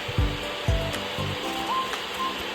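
A Lugx LG622 cordless vacuum cleaner's motor whirs steadily with a broad airy hiss throughout, joined by a few low thumps and brief tonal whines, close and continuous.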